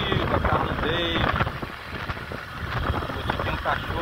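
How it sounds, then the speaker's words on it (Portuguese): Wind blows steadily across the microphone at Praia das Fontes beach in Beberibe, a constant broadband rush with gusty swells and faint voices underneath. "Agora é vento"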